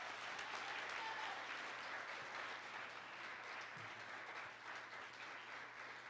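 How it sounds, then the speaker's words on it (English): Sustained applause from a school audience for student speakers at a senior speech event, an even wash of many hands clapping at moderate distance, fairly faint and unbroken throughout. "Let's give another round of applause to all of our speakers today."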